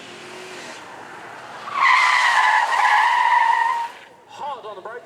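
A roughly 50-year-old 25th anniversary Chevrolet Corvette with a 5.7 litre V8 drives hard at a supercar event: a loud tyre screech and engine roar build after a quieter start, then fade. A voice is heard briefly at the end.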